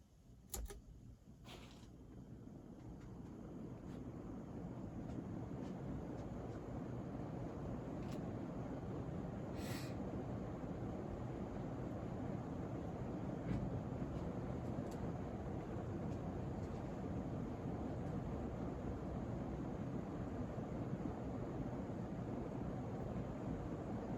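A 1984 Casablanca Delta ceiling fan in traditional brown spins up to high speed, settling into a steady whooshing hum with faint ticks and a light wobble, continuous and moderately quiet, no talking.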